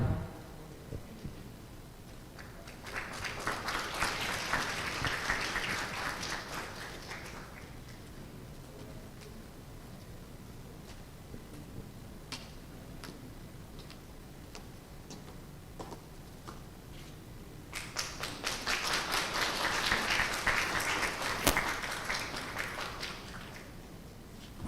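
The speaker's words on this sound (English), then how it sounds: "Please give a round of applause for our Secretary General and our Madam Chair" Audience applause at a university UN conference simulation, two bursts of clapping a few seconds long separated by a quieter stretch of scattered claps, heard from within the room with no talk.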